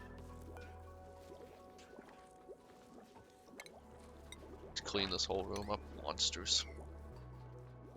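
Polluted water drips and trickles quietly in Oxygen Not Included, with soft liquid plops under a low game hum while a player talks over it.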